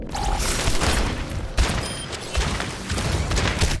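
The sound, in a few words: gunfire in the video game Overwatch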